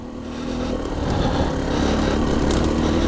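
A 2020 Husqvarna TE300i two-stroke dirt bike engine revs up from low to a sustained buzzing, raspy drone, building in loudness over a few seconds off-road, with no speech.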